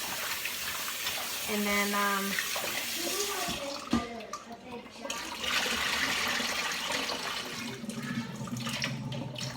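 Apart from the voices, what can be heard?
tap water rinsing beef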